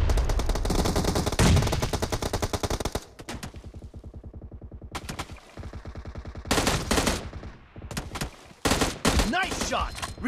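Shooter-game gunfire from an M16A4 rifle and a shotgun, first in dense rapid bursts, then a long run of quicker, quieter evenly spaced shots, then loud heavy blasts near the end, with no talk.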